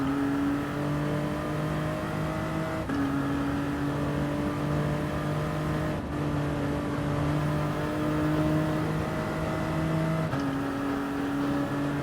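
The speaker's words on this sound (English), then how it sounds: "Rev it to the limit." Car engine in the racing game GT Sport held at high revs, a steady droning whine with brief dips at gear shifts every few seconds, loud and continuous without any talk.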